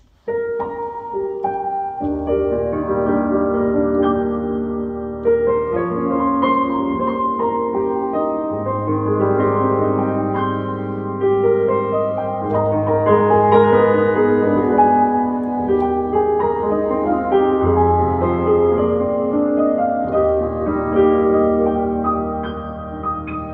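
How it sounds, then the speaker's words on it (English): A sampled Bösendorfer Imperial grand piano on a Yamaha digital piano plays a flowing, mellow passage alone, with sustained bass notes under a gentle melody and rich chords. "now we've got the Bösendorfer Imperial, which sounds like this"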